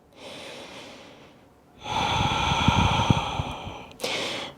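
Deep breaths during a yoga stretch: a soft exhale, a pause, then a long, loud, close breath with a rough, snort-like rasp, followed by another sharp intake of air.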